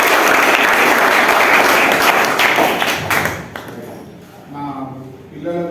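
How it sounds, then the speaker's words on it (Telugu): Children at the Srinivasa Ramanujan CBSE school clap in welcome, a loud, dense burst of many hands that fades after about three seconds before a voice starts talking. "మా స్కూల్ విజిట్ చేసినందుకు స్వాగతం తెలియజేసిన పిల్లలు ఒకసారి చప్పట్లతో"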